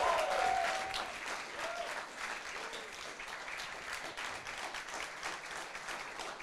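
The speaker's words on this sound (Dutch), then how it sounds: "Nog een heel groot applaus voor Anja." Sustained applause from an audience at a Partij voor de Dieren political event, steady dense clapping that swells at the start and holds at an even level throughout, with a few faint whistles.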